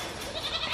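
A goat in a breeding pen bleats near the microphone, a short wavering cry heard over farmyard background noise, with no speech.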